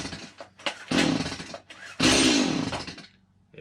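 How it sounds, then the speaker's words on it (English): A Stihl MS180 chainsaw being pull-started on full choke after a gas line replacement: two loud rasping recoil-cord pulls with brief sputters, separated by short pauses and ending quietly. "Now I'm going to put this on full choke. This may take a few pulls"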